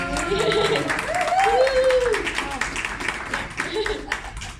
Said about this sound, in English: A round of applause for Candace because she's amazing.